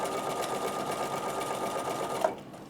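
A Bernina sewing machine stitches steadily at close range, a continuous even whirring hum that stops abruptly near the end with a small click, no voices over it.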